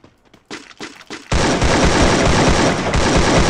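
Sustained automatic AK rifle fire in the battle-royale game Free Fire, loud and continuous, bursting in after a few quieter thumps and shuffling sounds.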